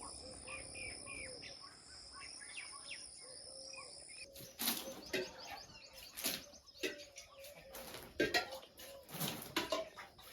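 Morning village birdsong with chirps and calls from crows and a koel among trees, steady in the background, joined after a few seconds by clattering household dishes and utensils nearby.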